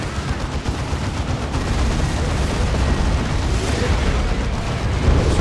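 A steady, loud barrage of booming plasma cannon fire and explosions in a Dawn of War 2 3v3 match, with rapid overlapping blasts throughout.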